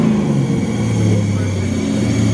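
A 2-valve street car engine revs loudly up close with a deep, steady rumble, no talk over it.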